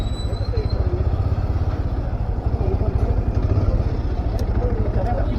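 Bajaj Pulsar 220 motorcycle idling close by while being parked on a sloped spot near Kodaikanal, a steady low rhythmic engine thrum under people talking.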